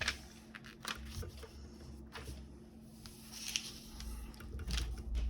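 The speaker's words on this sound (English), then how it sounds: "Or then crease it." Sheet paper creased by hand while folding a paper airplane, soft scattered rustles and sharper crinkling swipes, close and quiet, with no talking over them.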